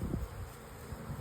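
Honeybees forage at their hives on an autumn day, a soft continuous buzzing hum that stays low and faint throughout, with no talking.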